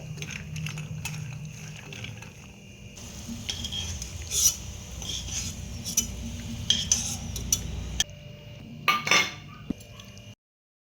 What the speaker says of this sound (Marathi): सर्वात पहिले आपण कढईमध्ये थोडंसं साजूक तूप घेतलेले एकदम मंद गॅसवर आपण हे ड्रायफ्रूट्स तळून घ्यायचे